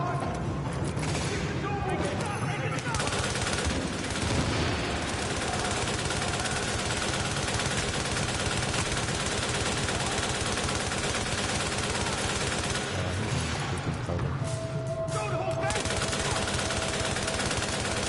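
Rapid automatic gunfire from The Division shooter game rattles almost without pause, with bursts of sustained fire dominating the mix and brief lulls near the start and end.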